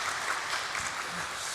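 A church congregation at a Korean Holy Week special dawn prayer service applauds the worship team with a brief, steady burst of clapping that fills the room.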